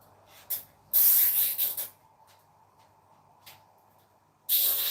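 A spray paint can hisses in several sharp bursts, one long spray and a few shorter puffs separated by near-silence, close and loud.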